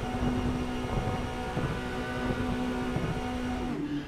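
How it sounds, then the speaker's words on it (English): Formula-style race car engines in the iRacing sim at Phillip Island, a steady droning tone with harmonizing pitches held across the whole stretch, loud and continuous with no talk. "You can hear the engine start to harmonize."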